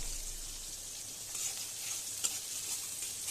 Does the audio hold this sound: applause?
no